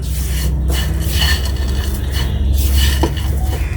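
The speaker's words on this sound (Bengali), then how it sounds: "আমি ভালোভাবে মিশাই নিচ্ছি গুঁড়া দুধের চিনি" Sweet semai being stirred with powdered milk and sugar in a pot, a spoon scraping and clinking against the metal in steady close strokes with a low background hum and no talking.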